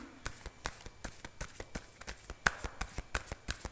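Tarot cards being shuffled by hand, a quick run of about fifteen crisp, evenly spaced riffling snaps, close and moderately soft, with no talk over them.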